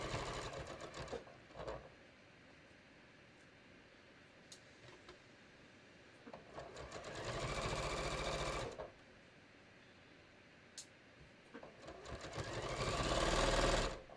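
A sewing machine stitches a raglan sleeve top in several bursts, running fast for a few seconds at a time between quiet pauses, close and fairly loud.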